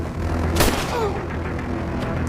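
In a film scene, a single sharp gunshot cracks out loud and close about half a second in, then fades as a low background ambience carries on.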